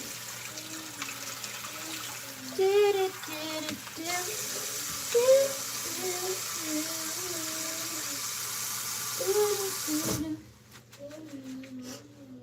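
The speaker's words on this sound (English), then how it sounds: "Nas, I'm already far away and have the water running." A steady hiss of running tap water fills the background while a person talks intermittently, then the flow cuts off near the end.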